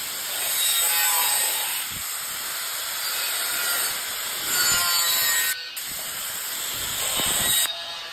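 Electrical trunking is sawn by hand, a steady rasping hiss of back-and-forth strokes, close and fairly loud, with a brief break partway through before the cutting resumes.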